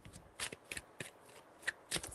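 Tarot cards being shuffled by hand in a quiet room, several quick riffling bursts in an uneven rhythm, close and fairly soft, with no talking.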